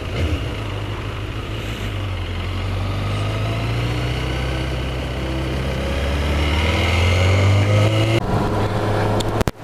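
Engine of a Suzuki GSX S1000 GT motorcycle drones steadily under way, a continuous close hum that swells slightly toward the end, with no talking.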